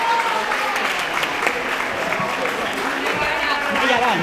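A graduation crowd applauds steadily and warmly throughout this short stretch, a dense wash of many hands clapping with faint murmurs underneath.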